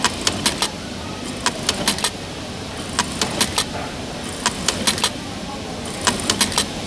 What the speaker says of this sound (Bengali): অন করার পরে এখন মেশিনটি চালিয়ে দেবো, দেখুন নাইভের স্পিড কিন্তু আগের মতোই হয়ে যাবে।